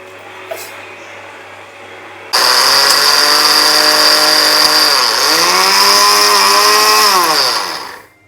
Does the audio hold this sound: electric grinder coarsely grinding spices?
yes